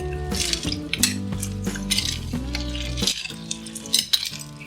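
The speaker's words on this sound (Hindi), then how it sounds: "अब आखिर में हम बर्फ डाल देंगे, बर्फ डालें। इसको हम मिक्स कर देंगे।" Ice cubes stirred into watermelon sharbat, with a spoon clinking against the glass in repeated quick knocks and rattles, fairly close and loud, with no talking.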